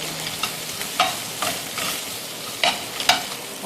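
Butter chicken, done the Indian way, is stirred with a small spoonful of butter in a hot pan, giving a continuous sizzle broken by several sharp scraping strokes of the utensil at irregular intervals, with no one talking.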